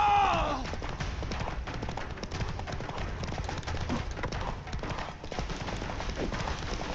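Hooves clip-clop in a fast galloping rhythm as a horse runs in The Witcher 3 video game, steady and close, with brief talk over the game audio.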